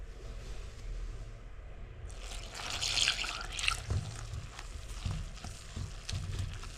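Water poured into boondi batter made with gram flour and baking soda and mixed by hand in a bowl, a soft trickle and wet squelching stirring that swells briefly, then continues in uneven close bursts.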